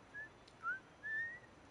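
A few short whistled notes in the video game The Last of Us, faint and thin, with small pitch slides, heard alone without talk.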